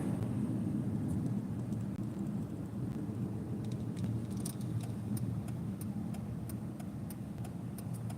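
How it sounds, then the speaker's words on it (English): A flatbed truck drives with a quiet, steady low engine rumble, while a regular ticking sets in about halfway through. "We got a tow truck, or should I say flatbed truck."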